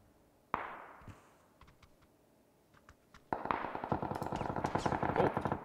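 Gunfire in the battle royale game PUBG: Battlegrounds: a single sharp shot and a few scattered distant cracks, then a sudden sustained burst of rapid automatic fire, loud and close, continuing to the end with no talk.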